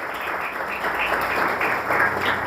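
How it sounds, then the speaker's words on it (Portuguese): A church congregation applauds the church team, a steady dense wash of clapping from many hands that carries on throughout. "eu quero uma salva de palmas para Anderson, juntamente com a equipe hoje."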